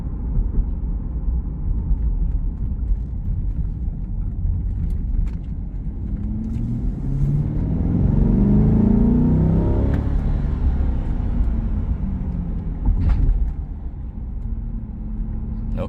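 A 2020 Chevrolet Corvette with paddle shifters drives along, its engine rumbling and swelling as it accelerates to a louder peak midway, then easing back, heard steadily from inside with no talking.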